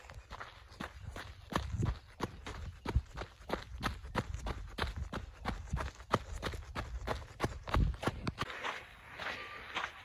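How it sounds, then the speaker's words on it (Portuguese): Quick, steady footsteps of someone running down a dirt road slope in the countryside, crunching and thudding on loose earth, close and fairly loud, with no talking. "vou descer essa ladeira aqui correndo"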